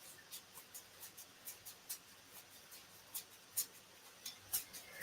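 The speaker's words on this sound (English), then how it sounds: "I'm shuffling to find them." A tarot card deck being shuffled by hand, giving a steady series of soft, papery riffling taps, fairly faint and close, with no talking.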